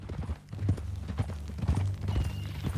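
Horse hooves clip-clopping at a walk in Red Dead Redemption 2, close and fairly loud, an uneven steady rhythm of hoof strikes with faint game ambience behind.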